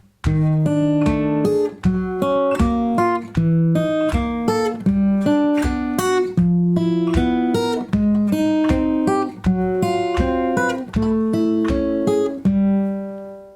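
A guitar is picked note by note in a steady, even rhythm, repeating a short fingerpicking pattern with clear ringing tones and no talking.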